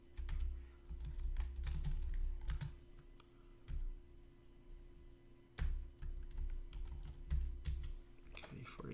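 Typing on a computer keyboard, close up, with irregular clusters of soft key taps and a few louder clacks over a low steady hum.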